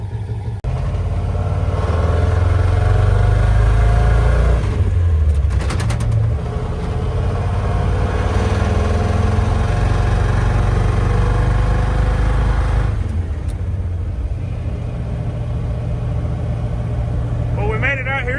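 A rebuilt 460 big-block V8 in a truck idles steadily as it warms up, a loud continuous low rumble with slight revving shifts around five and thirteen seconds, running throughout without letting up.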